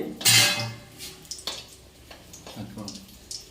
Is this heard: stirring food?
yes